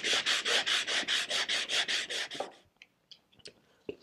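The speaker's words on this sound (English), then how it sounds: "we're going to do a little bit of sanding" Hand sanding a wooden chair back slat with sandpaper: about ten rhythmic, even rasping strokes in close succession, followed by quieter scattered taps and handling noises.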